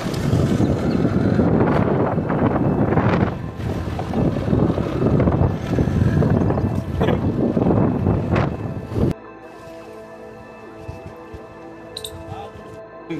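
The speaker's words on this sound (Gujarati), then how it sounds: "વાવાઝોડું ચાલુ છે અત્યારે." A strong evening windstorm in farm country roars in heavy gusts that buffet the microphone for about nine seconds, then drops to a quieter steady rush with faint rattling.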